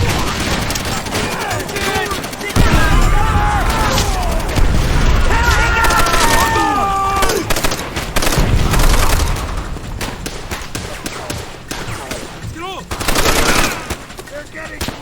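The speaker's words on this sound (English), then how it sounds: "Miller, man that MG!" Sustained machine gun fire from a mounted MG in the World War II shooter Call of Duty: World at War, loud bursts of rapid gunfire with booms and shouted voices mixed in throughout.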